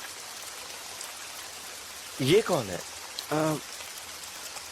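Steady rain falling outdoors, a continuous soft hiss of drops holding evenly throughout, with brief speech from people talking over it midway.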